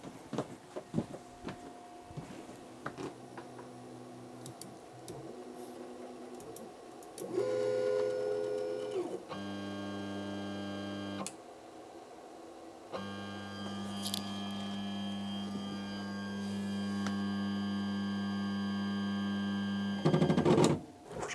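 A Sunlu S9 Plus 3D printer drives its bed along an axis, giving steady stepper-motor whines that hold a pitch, stop, and start again in several distinct runs, with a soft mechanical clatter early on and no talking.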